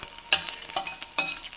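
Cinnamon, two cardamom pods, whole cumin and three dried chillies sizzle in hot mustard oil with a steady crackle, and a few sharper spits land at intervals as the spices are stirred, close by with no talking.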